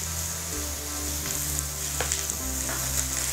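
Onions and garlic frying with browned mushrooms in an oiled pan, a close, continuous sizzle with a few stirring clicks and a low background hum.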